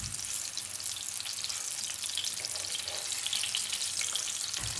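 Chicken golla kababs fry and brown in a pan, giving a steady, hissing sizzle heard up close without any talking.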